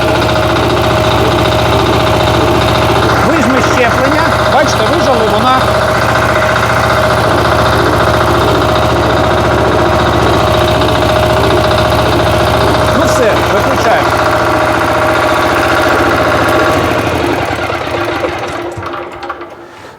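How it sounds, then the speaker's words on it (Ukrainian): Motor Sich walk-behind tractor engine running a rotary tiller through the power take-off, a loud, steady mechanical drone with whirring, vibrating overtones that carries on continuously before tapering off at the end. "двигун запустили. Дивіться, вижимаємо щеплення, вмикаємо вал відбору потужності"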